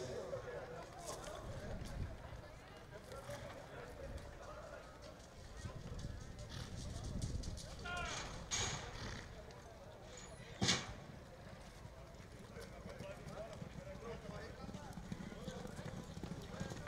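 Hoofbeats of a horse running in a Freio de Bronze competition, an irregular clip-clop over a murmuring crowd and arena noise, with a sharp knock partway through and an announcer's voice in the background.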